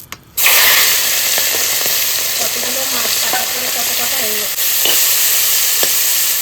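Fish frying in oil in a kadai gives a loud, steady close sizzle that starts abruptly after a brief quiet moment, with faint clinks and a short spoken remark over it.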